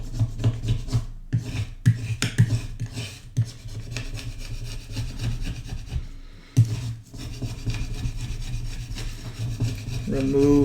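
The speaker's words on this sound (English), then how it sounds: "I'm going to take my scraper." Metal scraper rubbing and rasping over old, crusty dried paint on a mixed media canvas, a continuous close scratchy scraping in uneven strokes with brief pauses.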